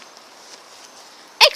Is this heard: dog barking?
yes